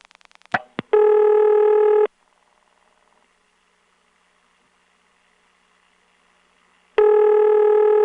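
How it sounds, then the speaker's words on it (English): Dial clicks pulse through a step-by-step telephone exchange carried over T-carrier, then a ringback tone sounds, falls into near-silence with faint line hiss, and the tone returns. "Nice ringtone, one of my favorites, although it's on T-carrier."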